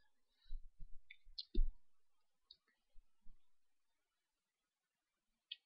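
A computer mouse clicking on an on-screen compute button, a few small, crisp, near clicks with short low thumps between them, quiet and sparse against near silence.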